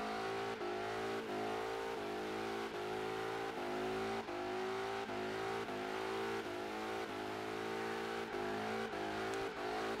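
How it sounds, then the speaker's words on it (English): A supercharged 1985 Holden VK Commodore Group A in Forza Horizon 3 does a third-gear burnout, its engine screaming near the limiter in a loud, harmonic-rich drone broken by regular short dips and spikes. "Third gear burnout."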